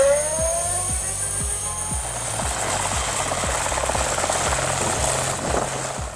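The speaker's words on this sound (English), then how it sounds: "The helicopter can be used in a wide variety of ways, from recreational flights to air medical services." A homemade two-seater helicopter in flight, its rotor beating in a loud, steady rhythmic chop over a continuous engine drone.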